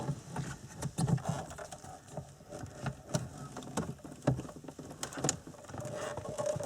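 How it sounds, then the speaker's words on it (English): An Audi RNS-E sat nav head unit in an Audi A4 is wiggled side to side out of its dashboard slot, giving close, irregular plastic creaks, clicks and small rattles with no talking. "Just wiggle it side to side and the whole unit will start to come"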